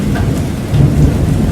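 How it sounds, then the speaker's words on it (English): Heavy rain pours down in a loud, steady roar close by, with deep thunder rumbling beneath it and no voices. "sometimes the droplets are huge when it's raining heavily"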